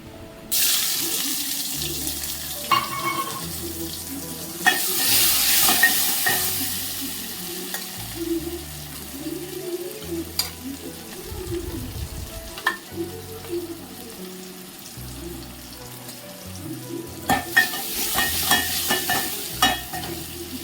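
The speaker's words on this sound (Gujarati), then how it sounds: "મગનો વઘાર કર્યો છે" Mung beans are tempered in a hot pan, giving a continuous close sizzle and hiss. Louder bursts of frying swell up several times, and spoon stirring and clinks mix in throughout.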